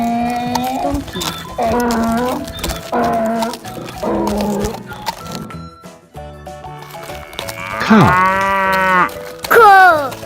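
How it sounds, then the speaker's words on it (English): Farm animal sounds play in a row, including a loud, drawn-out cow moo with deep harmonic lowing, alongside other animal calls and music in between. "Cow."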